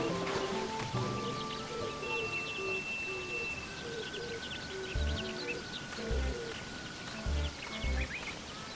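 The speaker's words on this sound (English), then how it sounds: "The rain will fill it up." Steady rain patter in Sakuna of Rice and Ruin, a soft continuous wash of drops with birds chirping and cooing over it and a few low thumps near the end, with no talk.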